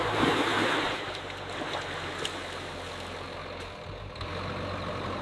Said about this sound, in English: Sound of water lapping against the new hull.